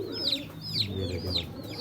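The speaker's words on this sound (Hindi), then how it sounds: "ज़बरदस्त, बड़ी बड़ी नोकों के कबूतर हैं।" Soft, repeated cooing from Royal Teddi pigeons, several low throaty calls in a steady rhythm with chirpy notes over them, close by.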